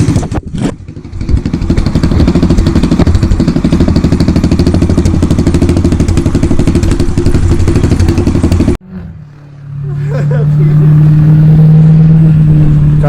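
A car revs hard and loud for several seconds while sliding on a rear tire wrapped in tape for drifting, then cuts off abruptly before the engine picks up again and drones steadily.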